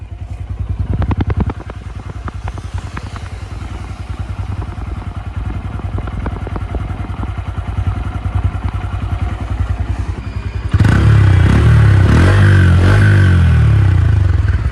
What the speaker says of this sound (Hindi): और एक बार एग्जॉस्ट साउंड सुन लो।